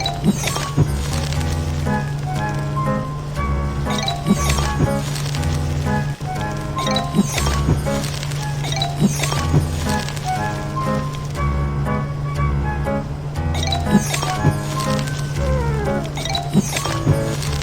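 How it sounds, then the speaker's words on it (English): Cartoon cooking game sounds of takoyaki being flipped in a pan: repeated soft taps, clinks and squishy pops in a steady rhythm over upbeat background music, with no talking. "The color of takoyaki has changed. Pick them up and flip them over."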